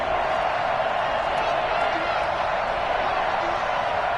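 A packed stadium crowd at a Seahawks versus Falcons football game in Seattle roars in a dense, unbroken wash of noise, loud and steady throughout, with a commentator's voice beneath it.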